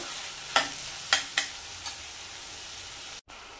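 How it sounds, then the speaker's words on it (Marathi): Tomatoes cook in oil with fried onions for a hadga flower bhaji, giving a soft, steady frying hiss with a few sharp spoon taps early on, then a brief dropout near the end. "आता ह्यामध्ये मी टोमॅटो घालते. टोमॅटो आता थोडासा मऊ होईपर्यंत शिजवून घेते तेलामध्ये."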